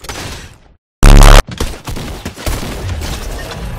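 Gunfire in the Fortnite video game, a dense, very loud clipped burst after a brief silence, followed by quieter scattered shots and game noise.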